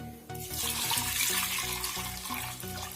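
Water pours steadily for a few seconds into a cooking pot, a continuous splashing rush close by, with faint clinks and a hollow resonance underneath.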